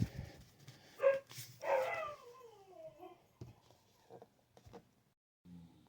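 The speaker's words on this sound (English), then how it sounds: "that was a guest voice appearance by my dogs, because somebody had the nerve to walk by the house" Dogs at a house bark and yelp at a passerby, two loud bursts followed by whimpering, falling whines and scattered fainter yips, heard fairly close.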